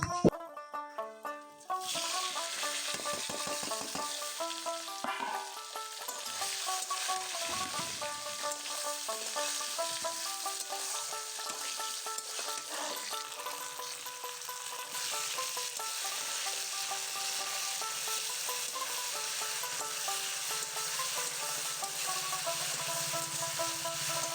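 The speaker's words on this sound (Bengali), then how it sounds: "তেলের মধ্যে দিয়ে দিলাম পাঁচ ফোড়ন অল্প পরিমাণ পাঁচ ফোড়ন দিয়ে এটাকে আমি ভালো করে ভেজে নেব" Panch phoron spices crackle and sizzle in hot oil in a continuous, close frying hiss that runs for the whole stretch, with gentle background music beneath it.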